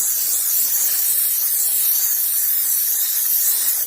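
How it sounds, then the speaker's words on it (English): Steady, loud hiss of a steam cleaner spraying steam over pet items such as a collar, leash and harness, continuous and close with no pauses. "I make sure I steam all around the surrounding areas"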